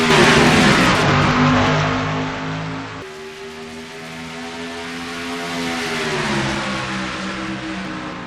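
Several race cars roar away at the green flag at Charlotte Motor Speedway, with loud, high engine whines that rise and fall as they accelerate past, continuous and close, with no talking.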